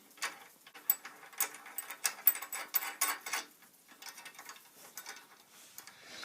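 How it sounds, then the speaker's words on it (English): A small metal nut is threaded onto a bolt by hand, giving a run of close, light clicking and ticking scrapes in uneven bursts that thin out toward the end. "Put a little donut on top of the bolt here and screw it on."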